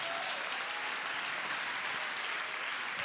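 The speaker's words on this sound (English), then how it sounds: "Clap your hands to Jesus." A crowd at a church evangelism service claps steadily, a dense, even patter of many hands continuing throughout at moderate volume.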